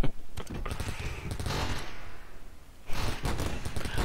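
Gunfire rattles in the colony game RimWorld, dense bursts of rapid shots that briefly thin out and then return strongly, loud and close.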